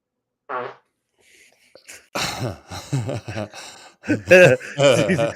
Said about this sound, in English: At what point in our lives are farts never going to be funny?